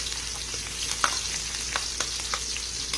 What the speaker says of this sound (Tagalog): Magigisa po tayo ng sibuyas.